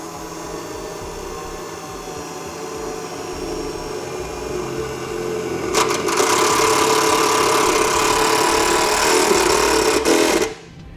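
A power drill runs steadily while self-tapping screws are driven into a vehicle's body near the front, the motor whine growing louder and denser partway through before cutting off abruptly.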